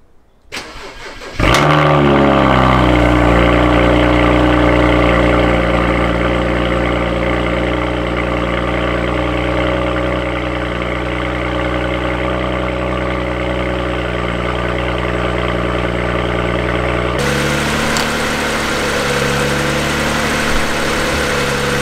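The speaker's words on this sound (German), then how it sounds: "wir starten das Auto jetzt wieder" A BMW 335i with heavy accident damage cranks and catches, then settles into a steady, loud idle with a low rumbling hum that continues for a long stretch.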